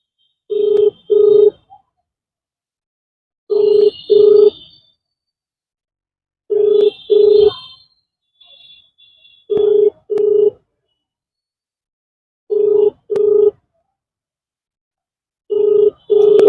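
A telephone ringback tone sounds over speakerphone during a call about paddy purchase payments, repeating in paired bursts roughly every three seconds with short pauses between them, clear and alone, and nobody answers.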